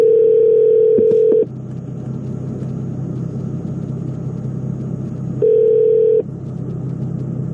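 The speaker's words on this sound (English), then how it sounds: "We're gonna try and call his Galaxy phone." Ringback tone while calling a Galaxy phone: a steady electronic tone sounds for about a second and a half, stops, then returns for one more beat over a low constant rumble, with no talking.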